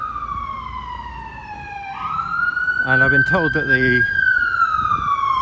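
A wailing London emergency-vehicle siren sweeps past Ealing Common station, loud and close, its pitch gliding steadily with a brief burst of rapid yelp in the middle, while someone talks over it.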